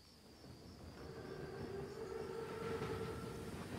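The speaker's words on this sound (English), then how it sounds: "Train's right on time. Biggest train I've ever seen. Thickest armor, too. It's a Panzerzug." Massive armored Panzerzug train in a Call of Duty: WWII battle scene, a faint distant low rumble of rolling wagons with a thin high whine, slowly growing louder over several seconds.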